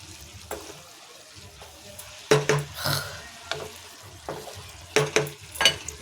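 Ground cumin and other spices hit a pan of nearly dried vegetables with a few sharp sizzling bursts and scraping stirs, fairly close, no talking.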